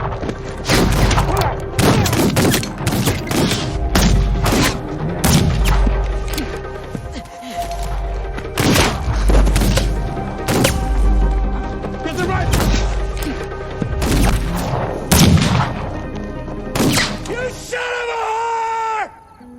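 Gunfire in a western film shootout at a cabin: repeated loud gunshot bursts and thuds over nearly twenty seconds, mixed with shouting and yelling, ending in a brief musical tone.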